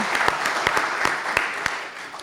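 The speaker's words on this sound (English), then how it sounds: "So let's have a round of applause for BCAC and Williams College." Audience at a poverty forum at Williams College gives a brief round of applause, scattered claps ringing out close and moderately loud with no talking over them.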